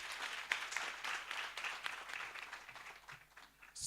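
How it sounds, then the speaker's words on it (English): Steady applause from a conference audience for a panel, a dense patter of many hands clapping that swells and dips slightly throughout. "Let's give them another round of applause."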